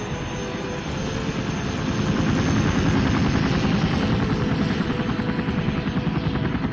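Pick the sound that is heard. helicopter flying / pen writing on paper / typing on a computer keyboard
helicopter flying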